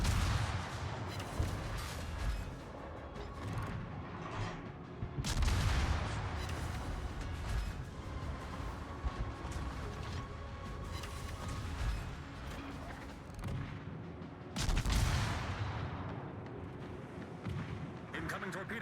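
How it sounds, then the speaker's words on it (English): Booming explosions from bombs in World of Warships, several heavy blasts spaced across the stretch, loud and rumbling under a continuous bed of naval battle noise. "Let's get some bombs going."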